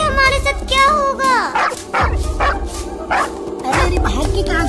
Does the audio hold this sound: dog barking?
yes